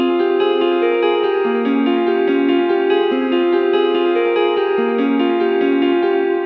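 A lap steel guitar patch from Omnisphere plays a looping two-chord arpeggio melody with a dotted-eighth delay, loud, steady and sustained, with no voices.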